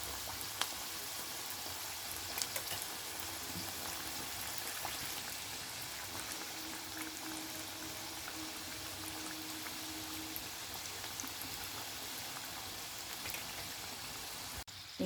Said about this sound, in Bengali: এগুলো আমি এবার ফ্রাই করে নেব। দিয়ে দিয়েছি কড়াইয়ে,